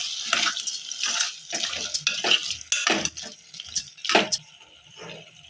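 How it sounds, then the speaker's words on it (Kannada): Mutton chops are mixed with spices in a metal pan for green mutton chops sukka. A spoon makes close, repeated scraping and clinking strokes in an uneven rhythm, with no voice. "ಮಸಾಲೆ ಹಾಕೋತೀನಿ. ಎಲ್ಲ ಮಿಕ್ಸ್ ಮಾಡ್ಕೋತೀನಿ."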